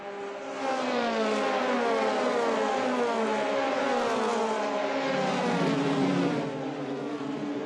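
Formula Renault Eurocup race cars scream past at Spa-Francorchamps, a loud, sustained high-revving engine wail with shifting pitch as the cars pass close by.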